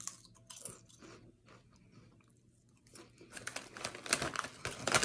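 Spicy Rap Snacks chips crackle and crunch up close as they are bitten and chewed, quiet and sparse at first, then building into louder, denser crunching in the last two seconds, with no talking.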